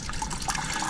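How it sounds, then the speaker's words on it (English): Engine coolant trickles and drips out beneath a 2006 Subaru Forester raised on a jack, a brief close, wet splattering patter with no voices. "That's only trickling out because the engine's jacked up"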